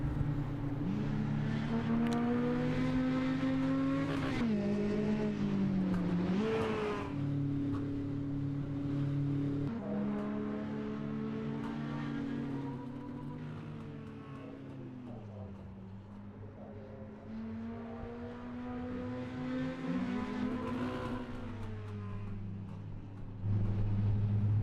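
Mini-stock race cars drone around an oval racetrack, engine tones rising and falling continuously as they circle, fairly loud and steady with no talk.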